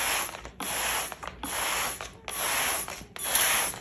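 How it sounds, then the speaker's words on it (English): A handheld spray bottle squirts water onto trays of young spicy salad microgreens, giving five or six sharp hissing bursts in a steady rhythm, close and clear, with no voices. "we're just going to spray these down"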